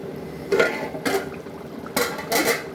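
A metal lid clinks against a pot of simmering Kerala-style curry several times in quick, uneven knocks as it is set in place, close by.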